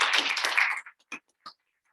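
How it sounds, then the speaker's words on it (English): A short burst of audience clapping at a business talk, loud and dense for under a second, then dying into a few scattered, isolated claps. "Can we clap for that?"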